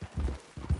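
Horse hooves clip-clop in Red Dead Redemption 2, a few close, uneven steps under a soft low rumble with no talking.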